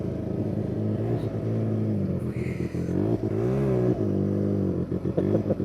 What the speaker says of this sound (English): I don't know if you hear that whistling right there. I don't know if that's how these engines sound or if that's an air leak.